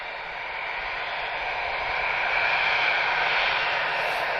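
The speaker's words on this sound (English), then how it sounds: "We'll just watch this A319 come in." An Airbus A319 airliner arriving at Lisbon Airport makes a steady jet roar that swells gradually louder as it approaches, with a hissing edge and no talk.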